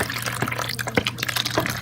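Hot water, warm but not boiling, is poured into tomato and pepper paste with salt in a kitchen, giving a close, steady liquid splash with small drips and trickles over about two seconds.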